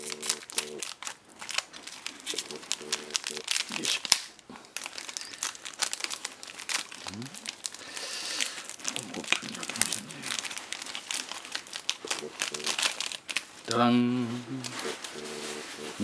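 Crinkling plastic wrapper of a Pokémon wafer chocolate being torn and opened by hand, close-up rustling and crackling in bursts while a person talks throughout.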